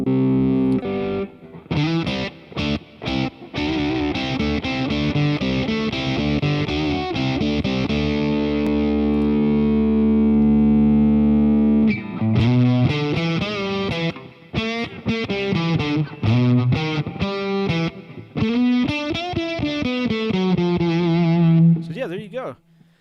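Electric guitar played through a Boss Katana MkII amp on its crunch setting with a 60s Fuzz Face–style fuzz, loud distorted chords and single-note lines ringing out, a sustained held chord in the middle, then choppier riffing.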